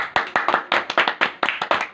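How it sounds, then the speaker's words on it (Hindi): Audience members at a small standup comedy gathering clap, a short run of sharp, close handclaps in an uneven, quick rhythm with no talking. "ताली बजाओ।"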